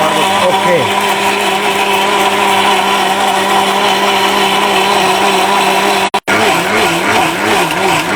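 An electric blender whines loudly and steadily as it grinds chili peppers into paste, its motor pitch wavering, cutting out briefly before restarting, with a voice talking over it.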